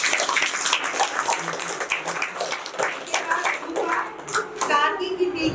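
An audience at a staged Hindi play claps after an actress is introduced. Scattered handclaps mix with children's voices and chatter, and the clapping thins out toward the end.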